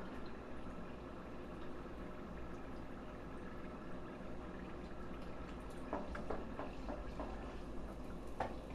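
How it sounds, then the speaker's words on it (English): Burritos deep frying in hot oil, a faint steady bubbling sizzle with occasional soft pops and crackles growing a little busier toward the end, close but quiet with no talk. "you just fry them until they're like, say, a golden brown"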